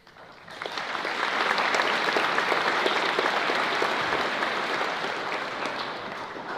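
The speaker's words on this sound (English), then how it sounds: "Thanks for the applause, guys." A school ceremony audience claps at a stadium and hall opening, the applause swelling quickly to a dense, steady roar of many hands and then tapering slightly toward the end.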